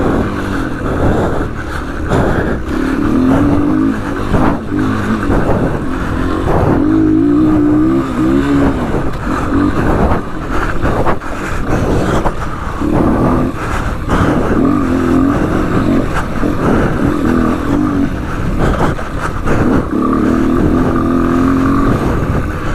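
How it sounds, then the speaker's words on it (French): A 200cc dirt bike and a Surron electric motorcycle ride wooded trails, the gas engine revving and rising in pitch through repeated throttle bursts, close and loud, with no talk. "La 200 contre une moto électrique dans le bois"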